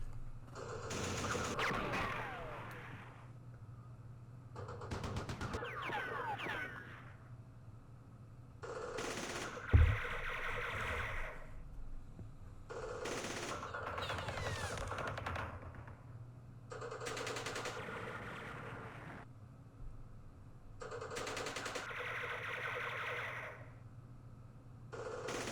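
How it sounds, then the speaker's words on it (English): Bursts of small-arms and machine-gun fire traded between bunkers in the Vietnam War strategy game Campaign Series Vietnam at the Battle of Dak To, several rattling volleys separated by short pauses, with one sharper thump near the middle. "Sitting in bunkers, exchanging fire."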